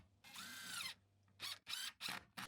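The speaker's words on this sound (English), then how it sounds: "Now I'm securing the shelving by adding a series of smaller wood screws to the battens." An impact driver drives small wood screws through loft shelving into timber battens, giving one long whirring burst followed by several short rapid bursts, close and fairly loud, with no voices.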